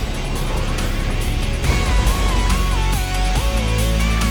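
A VK tank in World of Tanks races off-road, its engine a steady, loud rumble with rising and falling whine as it revs and shifts, continuous throughout.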